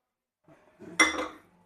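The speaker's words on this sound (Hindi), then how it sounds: "ये देखिए जो मक्के के दाने मैंने फ्राई करके रखे थे ये डाल दिए" Fried corn kernels are tipped into a pan with a short metallic clatter and rattle, close up, followed by a brief second clink.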